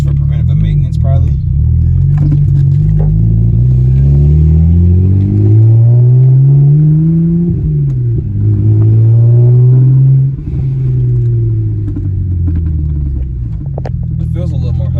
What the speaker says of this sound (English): So we're gonna take it for a test drive and see how it sounds.